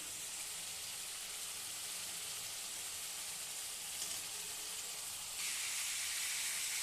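Soybean chunks, potatoes and vegetables frying in spiced oil, a steady hissing sizzle that holds even throughout and grows slightly louder near the end.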